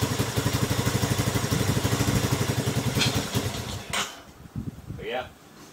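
A 1985 Yamaha YTM225 three-wheeler engine runs with a fast, steady chugging pulse for a few seconds, then drops away. Scattered clatter and a voice follow.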